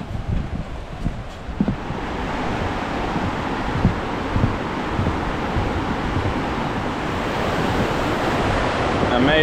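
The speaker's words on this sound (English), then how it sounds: "walking to the main attraction, the waterfalls" Steady rushing water roars continuously from the Una waterfalls in Bosnia, heard at some distance, with gusts of wind buffeting the microphone.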